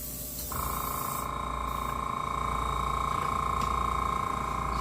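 A paint spray gun sprays car paint on a 1970 Monte Carlo lowrider, starting abruptly and then holding a steady, even hiss with a faint whine underneath.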